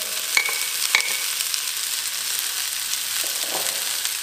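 Chopped onion hitting a pan as broccoli and cauliflower are stir-fried, steady close sizzling with a few sharp clinks and scrapes, no talking.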